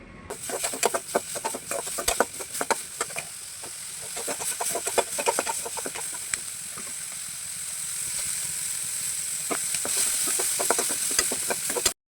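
Steady crackling sizzle of chutney ingredients frying in oil, with occasional sharp pops and stirring scrapes, growing slightly louder toward the end.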